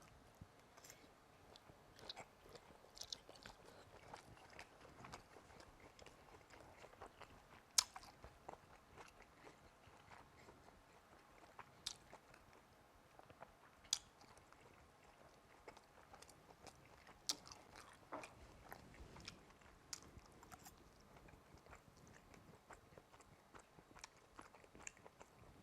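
Soft, close chewing and biting at a shrimp taste test, with faint crunches and small clicks spread evenly over a quiet, steady background and no talking.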